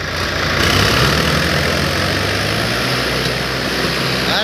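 Tractor engine under load hauling a loaded trolley, a steady loud low diesel rumble that holds throughout with no voices.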